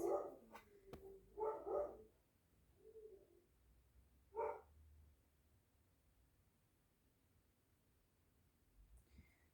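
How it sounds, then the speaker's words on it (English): Dogs bark in a few short bursts, clustered at the start and once more a little later, then fall quiet. The barking sounds somewhat distant over a faint, still background. "trying to figure out what the dogs are barking at"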